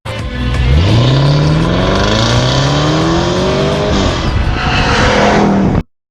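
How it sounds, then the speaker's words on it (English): A supercharged V8 SUV engine revs hard, its deep roaring exhaust climbing steadily in pitch for several seconds before cutting off abruptly, loud and close. "sound coming from the exhaust system that you want to rev that thing every time you're driving it"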